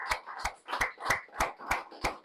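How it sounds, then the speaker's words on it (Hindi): Seven evenly spaced claps ring out one after another at a seminar on sales through social media. They sound like a single pair of hands or a small rhythmic group, fairly faint with a slight room echo, with no talking. "और जोरदार तालियां हमारे प्रेसिडेंट राजेश चेतन जी के लिए"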